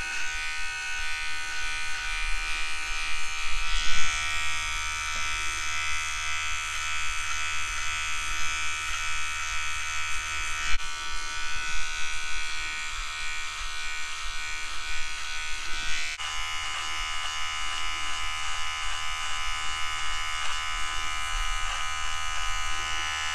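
A small electric Vivitar nose hair trimmer buzzes steadily and continuously, close up, with slight shifts in pitch as it cuts.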